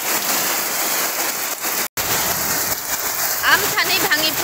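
Heavy rain pours steadily near a fishing spot, a dense unbroken hiss that drops out for a split second, with faint voices and bird-like chirps rising near the end.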